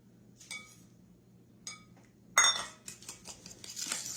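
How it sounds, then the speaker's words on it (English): A utensil stirs sugar into beaten eggs in a bowl, giving a few soft, sparse clinks and then a sharp scrape followed by quick, repeated close-up clinking and scraping against the bowl. "Stir that around real good."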